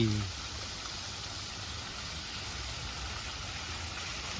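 Steady rushing water from a waterfall in a hotel garden with a camping-style seating area, a continuous broadband wash heard close and even throughout, with no talk over it.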